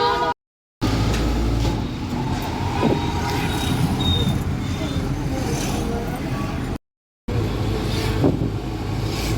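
Steady engine drone and road rumble from inside a moving auto rickshaw, continuous and close, with brief dropouts and voices talking over it.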